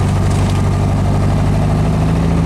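A 1776 single-port engine fed by a one-barrel carburetor runs at a steady, smooth idle, a loud close drone with a constant low hum and no voices.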